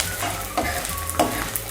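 Edible gum (dink) fries in oil in a kadhai, a close, dense sizzling hiss broken by two short stirring clacks.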